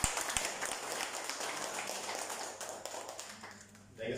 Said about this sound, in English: So can we give a million claps our first timer?